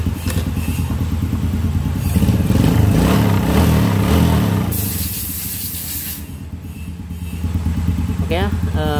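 A Honda Supra motorcycle engine runs at a steady low idle, with a brief change in pitch as it cuts out and catches again, close to the microphone.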